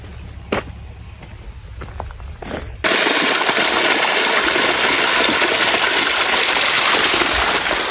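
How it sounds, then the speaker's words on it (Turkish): Water from a village fountain in Kadıköy, Kiğı, Bingöl, switching on abruptly after a few quiet seconds of small clicks and then pouring steadily, loud and close, as a continuous splashing gush. "Evet burada da bir çeşmemiz var."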